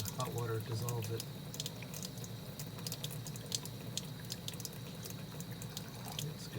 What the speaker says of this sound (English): we can actually see the soap formation clearing up in there as the hot water dissolves it